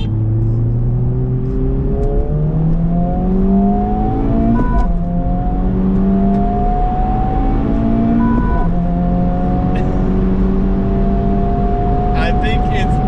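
A 2023 Honda Civic Type R FL5 and a 2024 Acura Integra Type S accelerate hard in a second-gear roll race, loud engine drone climbing in pitch, dropping briefly at shifts and climbing again, with constant road and wind roar.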